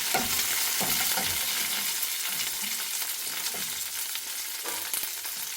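Onions frying in a pan for a green chilli mutton kurma, with curry leaves and chilli added, give a steady close sizzle with scraping stirs throughout and no talk.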